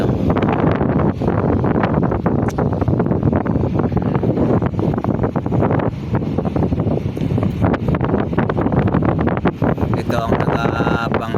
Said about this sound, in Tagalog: pag ganito yung alon saka malakas ang hangin